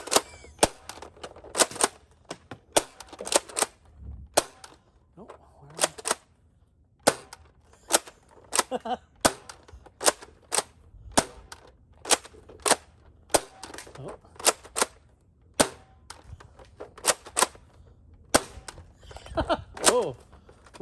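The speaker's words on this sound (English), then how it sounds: "Oh, we're both firing over the barrier." Rapid sharp pops from Nerf Rival Curve Shot Helix blasters firing, with dozens of snappy shots in uneven clusters and short pauses between, close and loud, and quieter handling clicks in between.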